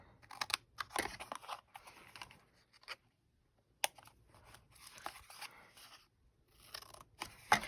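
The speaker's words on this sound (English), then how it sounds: "I'm going to be cutting off part of the tape." Scissors snip the corners of tape on a small card-game book project, producing crisp irregular clicks and short crunchy cuts close up and fairly quiet, with brief pauses between bursts and no voices.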